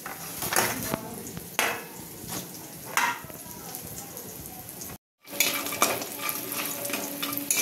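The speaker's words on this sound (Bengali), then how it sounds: "এবার বড়িটা ভাজছি।" Lentil dumplings (bori) fry in oil in a home kitchen, a continuous close sizzle broken by repeated stirring scrapes and utensil clinks against the pan, with one brief silent gap near the end.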